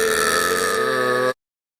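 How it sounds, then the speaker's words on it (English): One prolonged, loud burp sits close to the listener, holding a steady voiced tone for more than a second before cutting off abruptly into silence. "Oh, here's the burp."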